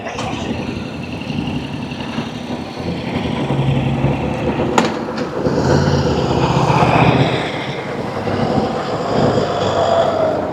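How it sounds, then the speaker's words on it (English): Busy street traffic in St. Albans, Melbourne, near a train station: a steady rumble of engines and passing vehicles close by, swelling and easing as cars and trucks go past, with no talking. "Traffic along here gets a bit busy."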